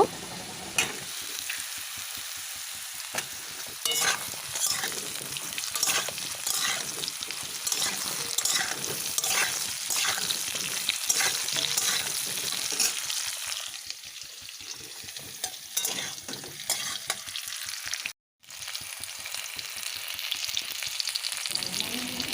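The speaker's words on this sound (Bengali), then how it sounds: "ঝিঙেগুলো দিয়ে বেশ কিছুক্ষণ" Ridge gourd and potatoes sizzle loudly in a hot pan with repeated scraping and stirring strokes, and the sound cuts out for a brief moment near the end.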